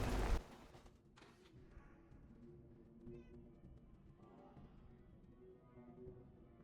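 A cat in the video game Fallout 4 gives a few soft meows over a quiet game ambience, with a sharp noise at the very start.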